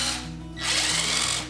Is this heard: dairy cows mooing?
no